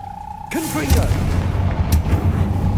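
Confringo fire-blast spell cast in Hogwarts Legacy, a loud booming explosion that bursts in suddenly and rolls on with a crackling rumble, a voice calling out over the start of it.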